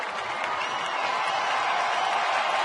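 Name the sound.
applause from baseball crowd near infield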